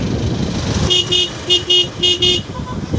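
Busy road traffic outside a crowded Christmas market, with a series of short car horn toots in quick succession over engine rumble, fairly close and loud, while people talk nearby.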